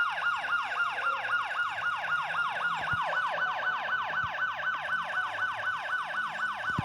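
A police car siren in the Elite Motos 2 motorbike game wails continuously in fast, regular rising-and-falling sweeps, loud and steady throughout with no talking over it.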